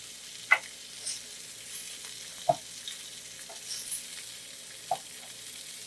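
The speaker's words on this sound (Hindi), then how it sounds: "टमाटर को थोड़ा सा और रोस्ट करेंगे।" Tomatoes and chillies roasting in a pan for a beef Adana kebab recipe, a soft steady sizzle with a few faint scattered pops and stirring clicks, fairly quiet and with no voices.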